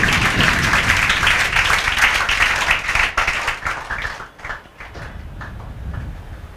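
Classroom audience clapping loudly in a dense burst that thins out into scattered, separate claps before a few stragglers pick back up near the end.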